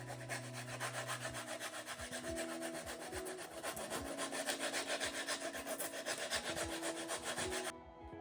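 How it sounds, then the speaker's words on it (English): Model filler on a diorama light box is sanded down in close, continuous rapid rubbing strokes with a dry, even rasp that stops abruptly near the end. "I think I used too much, so I took a while to sand it down"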